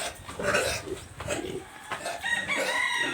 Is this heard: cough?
no